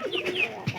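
A single pigeon gives a short, close coo, soft and throaty with a brief warble, heard alone without other sounds.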